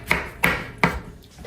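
A knife chops through vegetables on a cutting board while preparing fresh Vietnamese spring rolls, giving three sharp, evenly spaced cuts close up with no talking.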